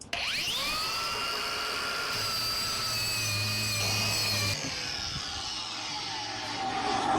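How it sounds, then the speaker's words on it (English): A steady, high-pitched rotary grinding whine runs continuously, a toothed tool working wood at close range with slight shifts in pitch. "So I got to do a little grinding on the wood here."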